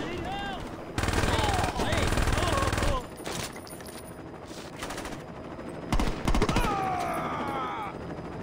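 Rapid automatic gunfire from guns in the video game Saints Row, loud sustained bursts lasting a couple of seconds, then quieter shots and another short burst, with a voice talking over parts of it.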